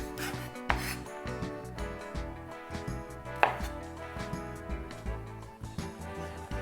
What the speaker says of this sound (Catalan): A la mongeta jo només li trec les puntes i la deixo sencera per bullir-la.